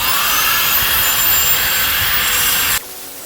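A polishing machine whirs loudly against a titaniferous magnetite ventifact rock, a harsh high steady roar that cuts off abruptly near the end, leaving a faint hum.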